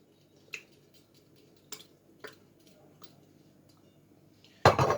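A few light metallic clinks as a cooking pot is handled while adding oil for tomato soup, then a louder clatter right at the end.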